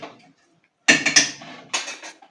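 A metal pressure cooker holding mutton is set down on a gas stove, making a close metallic clank followed by a few rattling knocks and a second lighter clatter.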